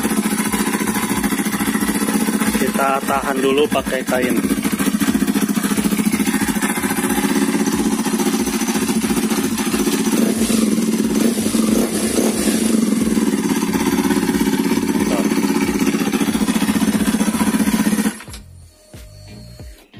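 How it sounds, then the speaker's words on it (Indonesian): A Kawasaki KLX230R motorcycle engine, bored up to 270cc, revs loudly and steadily for most of the clip, a rough droning roar with brief throttle surges, then cuts off abruptly near the end. "Bagaimana rasa geberannya? Kita geber."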